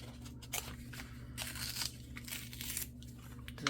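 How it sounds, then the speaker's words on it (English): Paper packaging being ripped open by hand, with several crisp, close tearing and crinkling bursts over a steady low hum, no talking. "We're gonna rip these open."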